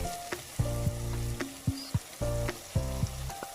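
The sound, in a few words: soaked amla (gooseberries) added to a pan and frying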